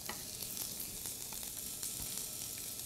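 Vegetables frying over high heat, a steady bright sizzle and hiss with faint stirring clicks, quiet and close, with no talking.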